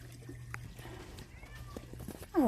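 A pet cat meows to be fed, several short mewing calls over low background hum, with a louder, close cry at the end.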